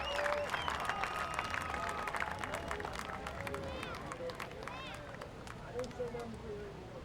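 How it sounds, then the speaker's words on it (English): Crowd applause rolls through the grandstand at a quarter-mile dirt speedway during a sprint car race, busy clapping and cheering under a public-address announcer talking throughout. "Let's give him a big round of applause."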